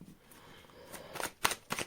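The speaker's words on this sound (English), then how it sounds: "Let's shuffle the deck." A deck of tarot cards is shuffled by hand: soft sliding, then a few quick papery riffle bursts close by and fairly quiet, with no talking.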